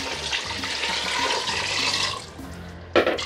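Water pours steadily and loudly into a pot of beans and pork ribs for soup, a continuous rushing gush close by that ends with a short splash, with no talking.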